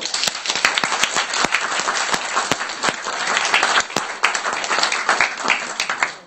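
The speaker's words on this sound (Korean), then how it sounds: "동의하시면 박수" Applause fills a lecture hall for an invited talk in New York, a dense, sustained clapping from the audience that stays loud and steady throughout.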